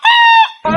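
A human voice imitates a chicken clucking: one loud, close, drawn-out squawking call, a brief pause, then a shorter rougher call.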